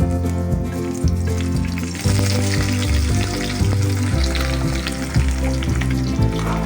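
Onions frying in a little oil for aloo kurma, a steady close sizzle with clattering stirs and scrapes in a pan throughout, with no talking.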